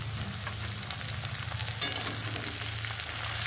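Okra and potato with salt, turmeric and chilli powder sautéing in a pan, a steady close sizzle with soft stirring scrapes running throughout.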